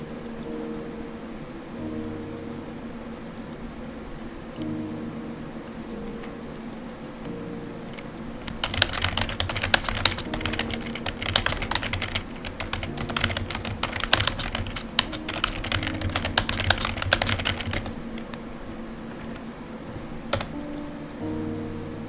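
Rapid typing on a computer keyboard, a dense run of close, crisp clicks lasting several seconds over a steady background hum, with a few isolated key taps before and after.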